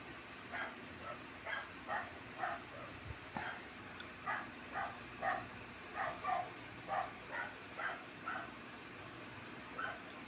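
A dog barks repeatedly in the background of a home kitchen while milkfish simmers for paksiw, giving a series of short yapping barks at a moderate distance over a low steady hum.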